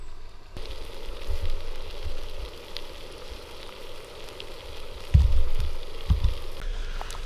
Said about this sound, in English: while we got that steak finishing up, fire kicking back up